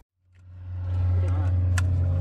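A low-slung SLS drift taxi car starts its engine and pulls away, a deep rumbling engine rising and holding steady up close, with brief voices over it.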